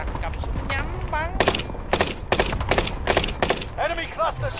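Rapid bursts of video game gunfire in a Fortune Keep match, several sharp volleys at irregular intervals with a voice talking between and over them.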